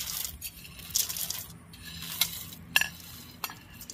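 Fried palm-fruit boondi is stirred in sugar syrup in a pan, with soft scraping stirs, light sizzling and occasional sharp metallic clinks of the spoon against the pan.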